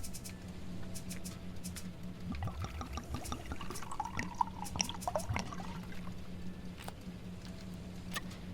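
Fuel poured into a generator in the survival game Sheltered, a steady liquid trickle and pour with some dribbling over a faint background hum, with no talking.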